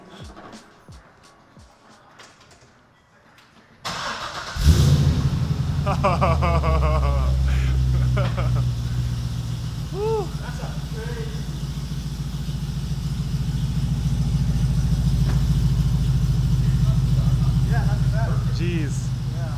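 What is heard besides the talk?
Chevrolet C6 Corvette engine starting and idling with new headers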